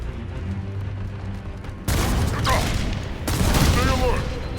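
Gunfire from the Halo video game, a quiet stretch broken by two loud onsets of rapid firing with bursts and booms, while game voices speak over it.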